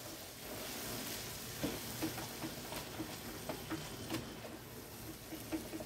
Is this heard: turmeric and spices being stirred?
yes